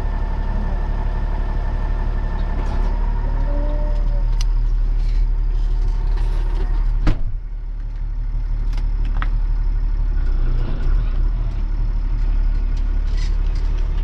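A tractor running a mower while topping a paddock, its engine droning steadily and close, loud and continuous, with a brief clunk partway through and no talking.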